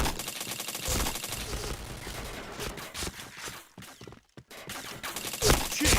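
Rapid video-game gunfire crackles in dense bursts through most of the stretch, with a short lull near the end before another loud volley, all mixed with busy game effects.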